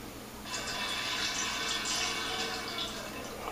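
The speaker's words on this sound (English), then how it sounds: "when you are trying to siphon wine from one vessel into another vessel" Wine siphons from one carboy into another, a steady hiss of trickling liquid that starts after a short quiet moment and runs on at a soft, even level.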